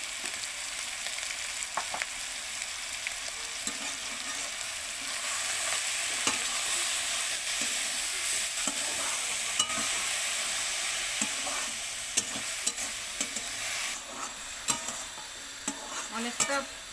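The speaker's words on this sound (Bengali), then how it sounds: "মাছটা ভাজা একটু ভাজা ভাজা করে নিলাম" Small shrimp for shrimp chops fry in a little oil with salt and turmeric, giving a constant close sizzle and hiss, broken by frequent scraping and tapping as a utensil stirs them in the pan, without talk.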